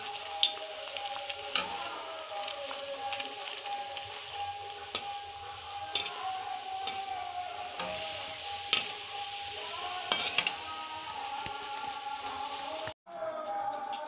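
Puris frying in hot oil crackle and bubble in a steady close sizzle, with scattered louder pops and occasional clinks of a utensil before it cuts off near the end.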